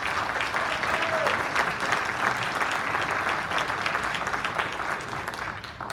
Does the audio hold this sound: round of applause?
yes